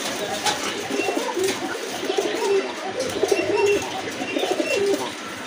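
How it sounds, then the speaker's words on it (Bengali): White-breasted Gola pigeons coo repeatedly in a steady rhythm of low rolling calls, close and moderately loud, with faint background noise. "এটা হচ্ছে আপনার বুক সাদা গড়া কবুতর"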